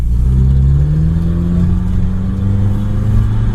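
A 1980 Honda Accord fitted with a Weber carburetor revs loudly and steadily nearby, its engine note rising smoothly in pitch over a few seconds with no talk.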